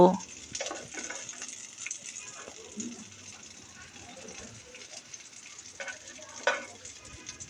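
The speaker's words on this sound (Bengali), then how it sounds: "চুলার আঁচটাকে মাঝারি হিটে রেখে এই মাংসগুলোকে ভেজে নিতে হবে" Meat frying in oil over medium heat makes a soft, low sizzle with occasional crackles and light stirring sounds, fairly quiet and close throughout.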